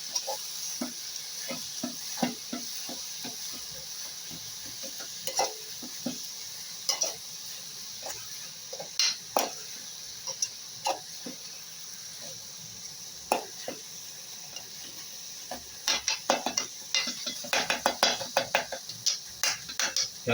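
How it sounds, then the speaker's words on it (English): Vegetables with tomatoes stirred in a cooking pot: a quiet simmer under frequent close scrapes and knocks of a spoon against the pot, growing busier toward the end. "What you do now is to stir them so that They"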